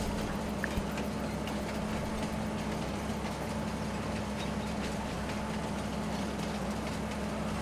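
Train ride in a farming video game, a steady low rumbling engine drone with faint rhythmic clatter, constant and unchanging throughout.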